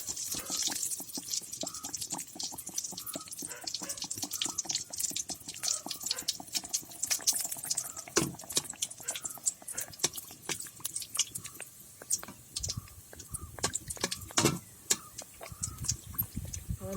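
Mangalore buns drop into hot oil and fry, giving a faint, continuous crackle of sharp sizzling pops and ticks that carries on steadily at close range.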